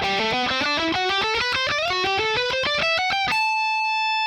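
Driven electric guitar rips through fast lead runs from a song's solo, a rapid stream of picked notes rising in steps and ending on one long sustained note, loud and close.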